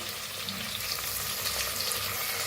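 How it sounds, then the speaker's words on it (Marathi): Garlic, ginger and green chili paste frying in hot oil in a pan, a steady soft sizzle close by with no talk. "आता लसूण अद्रक बारीक करून घेतलेली हिरवी मिरची वाटण टाकूया ह्याच्यात."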